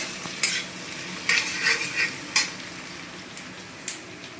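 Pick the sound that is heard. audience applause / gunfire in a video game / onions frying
onions frying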